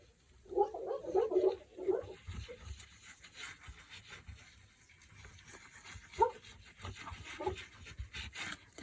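Pet dogs in a neighborhood with many cats whine and pant in agitated bursts, reacting to cats fighting outside in spring, louder at first, then sporadic over low background rumble.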